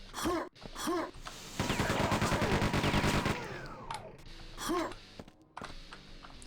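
A chain gun fires in Quake 2 as a rapid, evenly spaced burst of shots lasting about two seconds, spinning up and winding down, with a voice speaking before and after.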